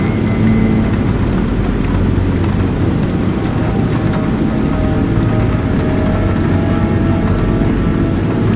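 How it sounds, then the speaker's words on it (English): Soft drizzling rain falls by the seaside in Old Digha, a steady, dense patter and hiss that stays even and fairly loud throughout, with no voices. "The weather was pretty nice with drizzling soft rain every now and then."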